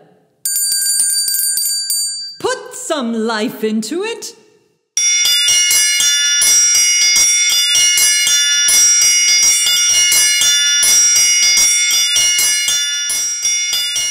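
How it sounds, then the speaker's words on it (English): Hand bell rung in long, bright, continuous peals after a brief spoken line, with a short ring at the start followed by sustained loud clanging to the end. "Ring this bell."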